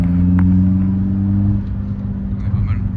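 A Peugeot 206 engine hums with a steady low drone, then eases slightly in pitch and settles into a rougher idle.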